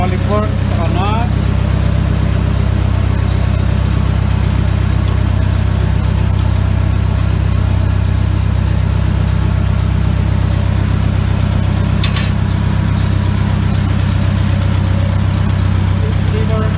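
A 1956 Ford 640 tractor engine runs during a hydraulics test, a loud, close, steady low rumble that continues without a break, with a faint click partway through.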